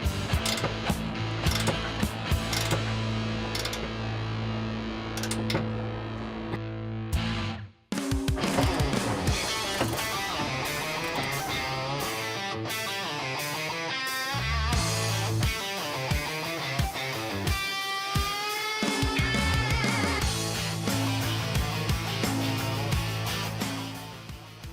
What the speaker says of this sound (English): we're going to start by fully tightening the 3 22mm nuts along with their washers